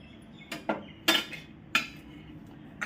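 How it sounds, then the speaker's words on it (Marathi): A metal spoon or spatula scrapes and clinks around a hot kadhai coated with oil, used for cooking misal pav. Several short, distinct scraping strokes come at uneven intervals, close and fairly quiet, with no talking. "आपण तेल या कढईला चांगलं चोळून घेऊ"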